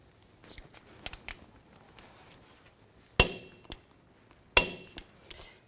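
Tools working on the wheel hub bolts of a 2000-2006 Chevy Tahoe during a front hub bearing replacement, heard as light metallic ticks and clinks followed by two sharp, loud metal clacks, close and isolated.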